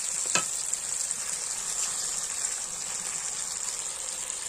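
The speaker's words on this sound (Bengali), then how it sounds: "এবার আমি দিয়ে দিলাম জল" Water poured into a pot of sizzling mutton curry, a steady loud sizzle and bubbling hiss close by with a brief splash near the start.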